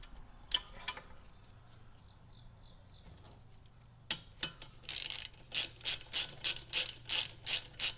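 A ratchet wrench turns a 10 millimeter bolt on a Porsche Cayman 987 during a camber plate install, starting with scattered clicks, then a run of about seven loud, evenly spaced ratcheting bursts up close, with no talk.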